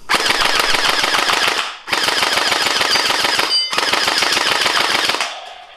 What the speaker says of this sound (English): Now we're gonna go ahead and shoot it.